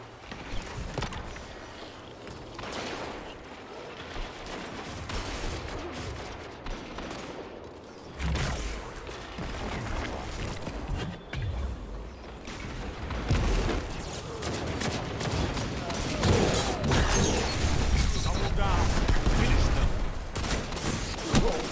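Rapid bursts of gunfire from a clunky-feeling weapon in the video game Destiny 2, dense and continuous through a busy match, growing louder and more intense toward the end amid other game effects.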